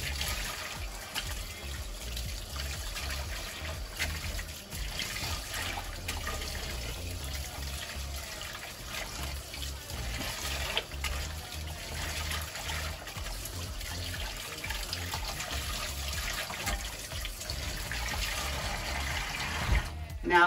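Tap water running over a human hair full lace wig during rinsing, a continuous close splashing and trickling flow that stays fairly steady throughout.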